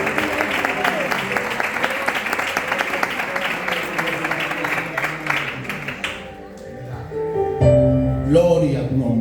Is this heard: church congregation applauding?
yes